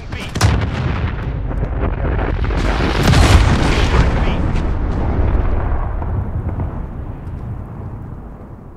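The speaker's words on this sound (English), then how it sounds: "Airstrike, get down." Heavy airstrike explosions from the Modern Warfare video game rumble and boom continuously, loud and close, with a dense, rolling low-end blast that swells around the middle before slowly fading.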